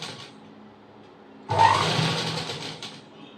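Sewing machine stitching a boat neck blouse: after a quiet pause, a close, steady mechanical whir runs for about a second and a half before stopping, with a faint hum around it.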